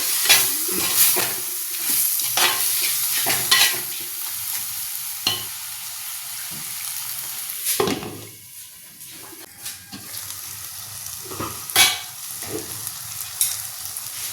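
Chicken curry ingredients, tomato with rock salt, sizzle and fry in a pan while a spoon stirs and scrapes repeatedly, close and continuous hissing with intermittent metallic clinks.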